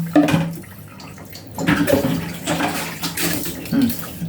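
Water splashes and pours in uneven bursts over a dog during its bath, close and fairly loud, with a brief whimpering in the background.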